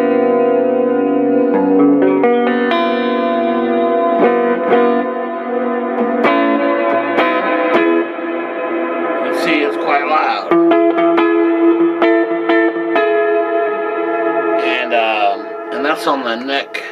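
Electric guitar played through an Albion AG40dfx or AG80dfx hybrid amp turned up, on the neck pickup: loud, sustained chords and ringing notes with heavy effects, echo and reverb, changing several times over about seventeen seconds.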